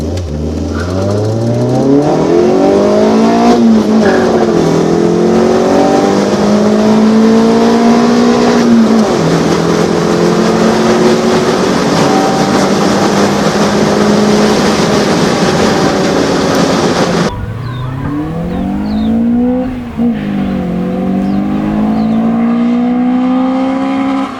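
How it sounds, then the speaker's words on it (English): A Nissan Sentra B12 with an SR20 engine swap accelerating hard in drag pulls, engine revs climbing loud and close through several gear changes, then a second shorter pull after a brief drop. "we're just gonna do like a few draggy pulls now of the car, see what it's capable of"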